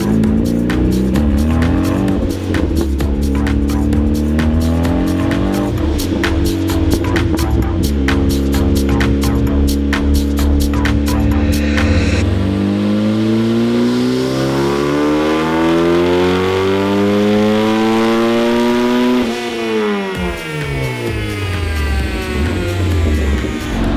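A turbocharged, high-compression 1.6-liter Mazda Miata engine revs hard on a dyno, climbing through loud sustained pulls with rising pitch, a brief drop, then another sweep upward; no talking.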